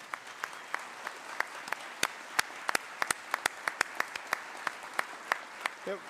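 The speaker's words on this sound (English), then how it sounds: "I'm gonna ask you to keep clapping because I think we owe a round of applause to our singer today." At an Army leadership award ceremony, the audience applauds a singer with sparse, distinct individual claps that ring out in an uneven, moderately quick rhythm, fairly faint and with no talking.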